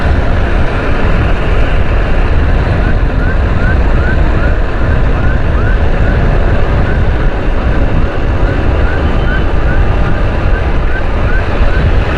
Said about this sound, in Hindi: यहाँ पर हमें जो है ना फायर ब्रिगेड नज़र आई है।